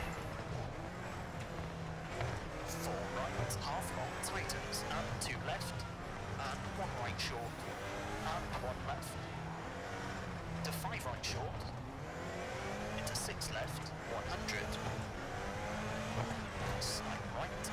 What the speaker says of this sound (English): we're driving an iconic rally car on the iconic rally.